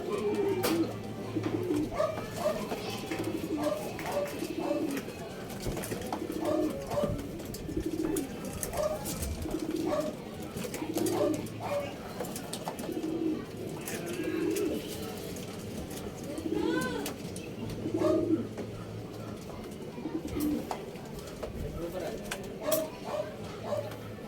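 Racing pigeons coo softly and repeatedly in low, throaty phrases through a busy loft scene, while a person talks intermittently over the birds.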